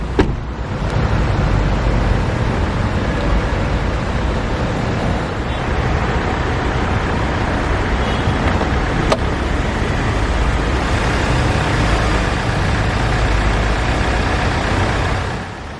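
Range Rover Sport SD4, a 2019 model with a 2-liter turbocharged diesel, idles with a steady, loud low rumble and even clatter that hold constant throughout, with a brief click near the middle and no voices.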